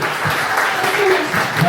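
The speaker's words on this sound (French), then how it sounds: "On l'applaudit s'il vous plaît" Audience applause at a cosplay contest, a sustained wash of crowd clapping with a voice speaking over it.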